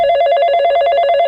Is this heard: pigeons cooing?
no